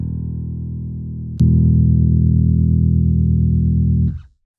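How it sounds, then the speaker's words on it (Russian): Cort Action DLX V Plus five-string electric bass, a single plucked low note that rings and then jumps in loudness as the active preamp is switched on with a click, sustaining before being muted. "я дергаю струну, включаю активный режим"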